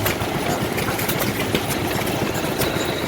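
A 1922 Novo 3-horsepower antique gas engine runs steadily nearby, a dense rattling chug that continues without pause.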